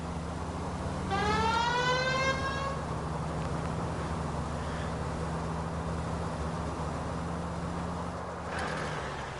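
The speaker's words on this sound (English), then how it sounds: "Why don't you use the siren?" A police car siren from the video game L.A. Noire wails as a rising and falling tone for about two seconds near the start, over a steady engine drone, then stops while the drone continues.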